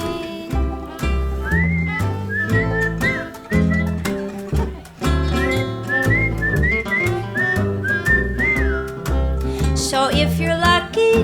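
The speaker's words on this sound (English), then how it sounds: "and whistle a happy little strain" A bright, cheerful whistled melody weaves through a full band accompaniment, carrying a happy little tune in steady phrases from start to finish with no talking.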